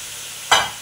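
Potatoes sprinkled with chili powder are stirred in a frying pan for a soyabean egg curry, giving one brief scraping stir and a sudden burst of sizzle that quickly fades.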